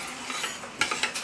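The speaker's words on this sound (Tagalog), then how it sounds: "Mix together." Ingredients for a mango graham cake being stirred together in a bowl, soft continuous scraping with a few sharper clinks of utensil against the dish near the end.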